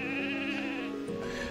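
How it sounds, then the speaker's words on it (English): Sheep bleating in the online role-playing game Ultima Online, one sustained wavering bleat heard clearly and close, with no talk over it. "What are these sheep doing here?"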